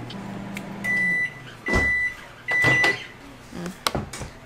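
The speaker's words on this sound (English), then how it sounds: "I just pop this in the microwave for like" A microwave oven runs in short bursts, each a steady hum lasting about half a second, three times in a row with clicks and handling noises between them.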